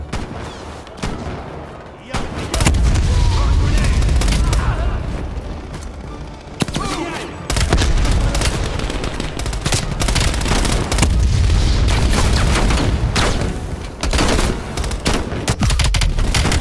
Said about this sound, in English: Get Volkov! Grenade